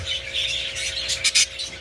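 Pet birds in a breeding cage squawk and chirp in a busy cluster, close by, with two sharper louder calls near the end over a faint steady hum.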